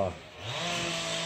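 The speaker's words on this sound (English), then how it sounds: "This guy is using a chainsaw" A chainsaw runs steadily while cutting thin saplings at an outdoor motorcycle rally, a continuous buzzing drone at moderate distance with a person talking over it at the start.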